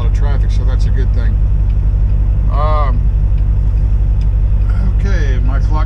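Truck cab interior while driving at night, a loud steady low engine rumble and road drone filling the cab, with someone talking over it in bursts.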